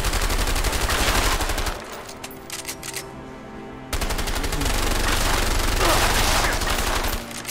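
Rapid bursts of automatic gunfire in the video game A Way Out, loud and dense at the start, dropping away briefly, then returning in sustained volleys.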